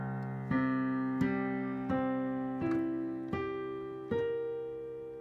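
Six separate notes of the overtone series played as a melody, each one struck and left to ring alone, softly, with a steady rhythm and the pitch stepping upward.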